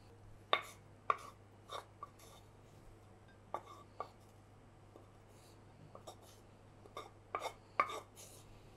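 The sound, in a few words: cauliflower being broken into pieces for bhorta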